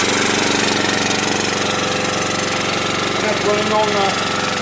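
An engine running purely on fuel, steady loud mechanical drone and rattle with constant level throughout, close by and unbroken.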